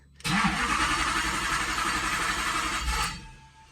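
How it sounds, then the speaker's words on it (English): A Ford Focus with a twin-turbo V8 engine cranks and catches, running with a loud rough roar for a few seconds before dropping off. "Start the engine"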